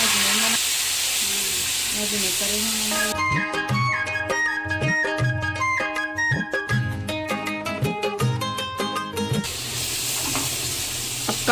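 Garlic and ridge gourd fry in a kadhai over a low flame, a steady sizzle with hiss and bursts of clattering stirring in the middle, fairly close and without talk.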